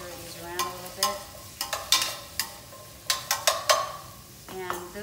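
Asparagus sautés in olive oil in a pan, giving a steady soft sizzle under a run of sharp clicks and scrapes as tongs stir and turn the spears, several taps bunched together in the middle.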